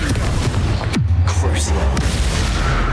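A Confringo fire spell from Hogwarts Legacy goes off in a loud, booming burst with a swooping whoosh leading into a deep rumble, amid other busy game sounds and a bit of voice.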